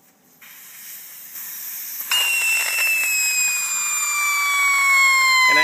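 Air hisses steadily from a tire's valve stem as the valve core is unscrewed with a valve core removal tool, swelling louder in two steps and carrying thin, sliding whistle tones over the rush.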